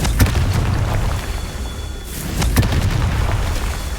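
Confringo fire spells exploding in the video game Hogwarts Legacy, heard as loud, dense booming blasts with sharp impacts around the middle and later in the passage. The roar of combat continues without pause, and no one speaks.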